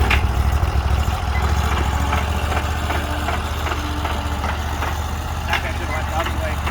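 A 20HP Sears Suburban lawn tractor rigged as a brush cutter, running hot, idles with a steady low rumble and an irregular knocking pulse, near and fairly loud from start to finish.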